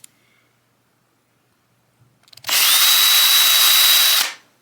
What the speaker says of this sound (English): we're going to go ahead and drill out the threads